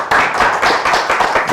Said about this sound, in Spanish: Un aplauso para comenzar.